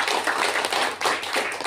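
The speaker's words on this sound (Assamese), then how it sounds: "বল আমি জোৰদাৰ তালি বজাই সব ধন্যবাদ" A church congregation clapping loudly together, a dense, steady wash of many hands that stays close and full for the whole short stretch with no voices over it.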